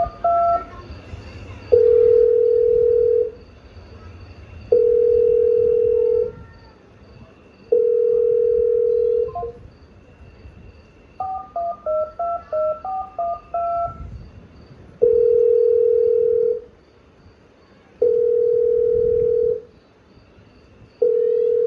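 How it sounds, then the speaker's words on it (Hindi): A telephone call goes unanswered: a ringback tone sounds in long, evenly spaced pulses, interrupted midway by a quick run of keypad dialing tones, then the ringing resumes. "वो बार बार फोन करती है, पर कोई जवाब नहीं आता है"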